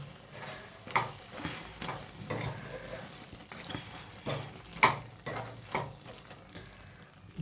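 Chicken cooked with yogurt fries in a pan over low heat, a steady soft sizzle broken by several louder scrapes and stirs of a spatula, close by with no talking.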